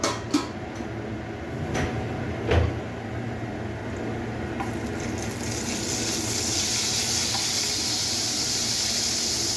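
Cumin seeds sizzle in a spoonful of hot oil in a heated pan, a steady close hiss that swells after a few early clinks of a utensil against the pan.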